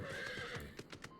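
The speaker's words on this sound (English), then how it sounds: "I ride horse." A horse in the video game Final Fantasy XIV gives a brief, bright whinny with a few hoof clops at the end, fairly quiet against a steady game backdrop.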